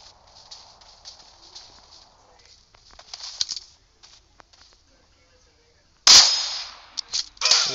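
Sharp gunshots in PUBG Mobile, a few quick cracks in war mode, loud and up close after a quieter stretch of faint game ambience with soft tapping.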